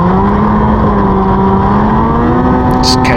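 A snowmobile engine holds a loud, steady throttle during a race, its droning pitch rising and falling slightly as it pulls hard, up close and continuous throughout.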